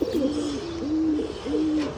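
Pigeons coo in a loft, with three soft, low, rolling coos that repeat in a steady rhythm close by against a quiet background.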